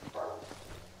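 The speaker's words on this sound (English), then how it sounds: "I hear a dog." A dog barks inside the horror game Darkwood, heard as a short muffled bark or yelp that rises quickly and then fades under low ambient game noise.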